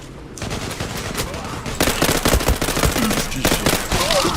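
Rapid bursts of automatic gunfire from the Turkish-made first-person shooter Zula, loud and continuous with clustered shots throughout, growing denser in the second half.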